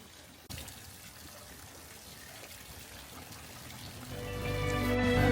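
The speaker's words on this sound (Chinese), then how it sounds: "先到守水社洗一下手。" Water pours and splashes as hands are washed at a shrine purification basin at Shisho Shrine in Kinosaki Onsen. A soft trickle grows into a louder, steady stream near the end, close by and with no talking.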